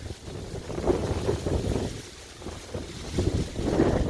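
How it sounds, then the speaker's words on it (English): Strong tropical storm wind gusts into the microphone near the water, a fluctuating low rumbling roar that swells and eases in waves with no talk over it. "ooh, it's a good wind."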